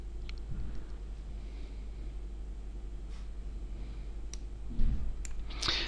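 A handful of soft, sparse computer mouse clicks sound over a quiet steady background hum while a payment transaction is processed, with one slightly louder bump near the end.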